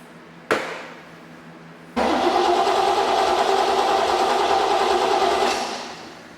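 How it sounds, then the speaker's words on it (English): A brief click, then an AMC 304 engine on a run stand bursts into a steady running roar for several seconds before fading slightly at the end. "finally got this engine running on this engine stand"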